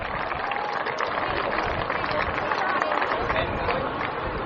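Spectators at an under-18 Division 2 football grand final applaud the field umpires, a continuous spread of clapping mixed with crowd murmur and scattered voices, moderately loud and steady from start to finish.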